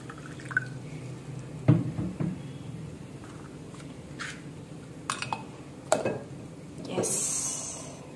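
Water trickles and drips into a container of about one and a half litres, with scattered splashes, faint knocks and a brighter splashing burst near the end, close and fairly quiet.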